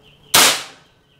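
A single sharp shot from a Bocap Predator Tactical SAS 500cc air rifle firing Canon Hercules pellets cracks close by, a sudden bright pop that fades quickly into quiet.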